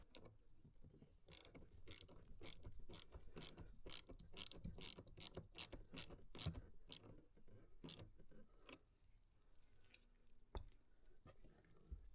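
A ratchet wrench tightens a car battery terminal clamp on a Corvette Z06, a quiet run of rapid clicking strokes in bursts with brief pauses between them.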